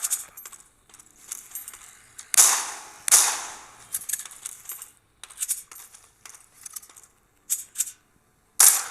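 Shotgun blasts in the mobile game The Walking Zombie 2, a handful of sharp bursts among clicky game effects and tapping, fairly close, with no talk.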